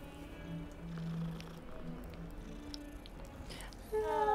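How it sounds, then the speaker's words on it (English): A cat in the video game Hogwarts Legacy purrs softly as it is petted, a low steady rumble running under quiet game ambience, with a brighter chirpy sound entering near the end. "I forgot that you can pet the cats."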